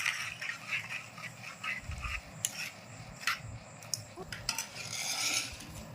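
Raisin chutney with ground fenugreek being stirred and mixed by hand, a soft, steady scraping and clinking of a spoon against the bowl over several seconds, fairly quiet with no one speaking.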